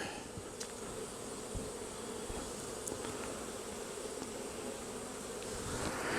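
Honeybees buzz steadily around a frame of drone brood comb, a dense, continuous hum close by with no voices.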